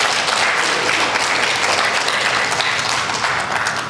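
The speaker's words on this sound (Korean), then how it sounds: "박수 한번 해주시겠어요?" A church congregation applauding after a prayer, dense, continuous clapping from many people that stays loud and even throughout.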